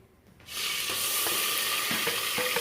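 Ground onion paste dropped into a pan of oil for aloo matar, breaking into a sudden loud, steady sizzle that keeps hissing close up with faint stirring clicks.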